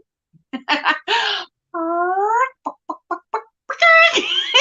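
A woman imitates a chicken's clucking as a birthday greeting, with a drawn-out vocal squawk followed by a string of short, punchy clucks, close to the microphone, ending in a loud wavering call.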